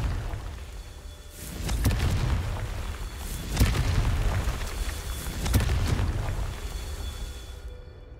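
Confringo fire-spell blasts burst three times in a goblin cave in Hogwarts Legacy, each a sharp, bright explosive crack with a rumbling tail, evenly spaced over a low ambient hum.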